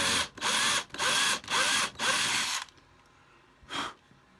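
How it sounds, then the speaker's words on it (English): A power drill whirs in four loud bursts with short pauses between, then a quiet stretch and one final brief burst. "I'm going to go ahead and drill a little bit more because I want to drill"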